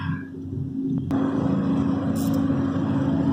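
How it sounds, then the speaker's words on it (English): A steady mechanical roar with a constant droning hum, like a leaf vacuum running close by, loud and unbroken throughout. "That leaf vac is noisy."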